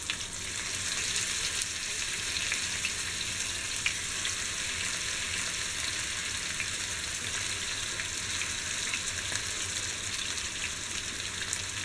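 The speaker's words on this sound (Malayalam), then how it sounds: "അപ്പോൾ അതിലേക്ക് നമുക്ക് മത്തി വറക്കാനായിട്ട്" Sardines sizzling and crackling steadily in hot oil in a pan for Kerala-style fish fry, a dense, even frying hiss that holds for the whole stretch with no voices.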